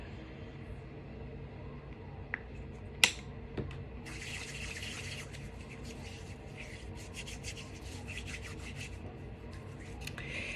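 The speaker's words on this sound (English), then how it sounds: "So first we're going to start off by washing your hands." Hands are washed under running tap water at a sink, heard as a faint, steady wash of water with soft rubbing, a few small knocks, and no talking.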